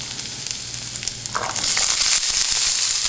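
Potatoes, onions and peppers hit hot oil in a pan, a steady low frying hiss that swells into a louder, brighter sizzle partway through, close up with no talking.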